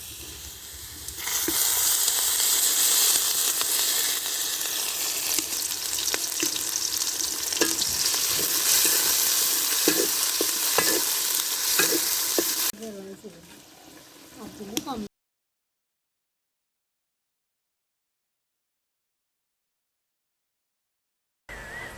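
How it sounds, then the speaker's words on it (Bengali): Spices fry and get stirred with onion and chilli in hot oil, giving a loud continuous sizzle with scraping stir strokes, then a quieter stretch, a silent gap, and a brief return of sizzle. "মশলাগুলো সুন্দর করে ভেজে পেঁয়াজ মরিচের সঙ্গে ভেজে কষিয়ে নেওয়া হয়েছে।"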